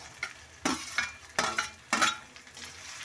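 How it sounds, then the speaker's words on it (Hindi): Eggplant added to nearly fried potatoes in a clay pot, bringing soft sizzling under several distinct stirring scrapes, close and without talk. "तो देखिए आलू मेरी लगभग भुनने ही वाले हैं, तो इसमें हम अपने बैंगन डाल देते हैं।"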